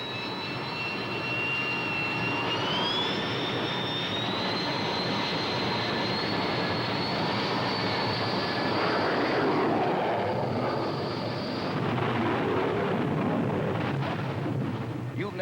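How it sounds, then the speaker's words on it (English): A4 and F4 jets run their engines on an aircraft carrier flight deck, a loud continuous roar with whining tones that rise in pitch and hold steady across the whole stretch. "the jet engine noise is overpowering"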